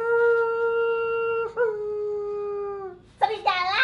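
A person imitates a wolf howl during a children's animal story, holding a long, loud, steady tonal howl that dips and continues, then breaks into a higher yipping wail at the end, close and clear.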